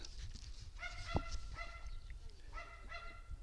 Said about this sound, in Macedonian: еве се слуша, кучето додека лае